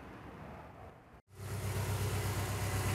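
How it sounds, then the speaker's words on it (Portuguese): A Chevrolet Corsa engine cranks briefly, goes quiet for a moment, then catches and settles into a steady, close, rumbling idle. "Ligar o carro para a gente continuar."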